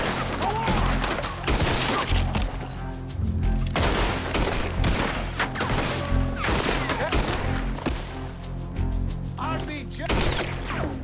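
Dense gunfire in the video game Red Dead Redemption 2 sounds as rapid, overlapping shots and booms in a continuous loud barrage, with game sounds filling the background.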